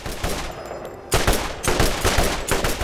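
Combat rifle gunfire in the video game Borderlands, rapid bursts of loud shots starting after a brief quieter stretch, then firing repeatedly in fast clusters.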